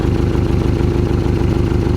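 A Porsche 718 Cayman S with a 2.5-litre four-cylinder engine idles steadily close up, its low rumble carrying a slightly tappety clatter with no talk over it.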